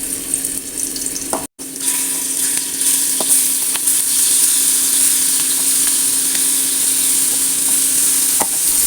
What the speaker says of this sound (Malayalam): ചെമ്മീൻ ഓരോന്നായിട്ട് നമുക്ക് വറുത്തെടുക്കാം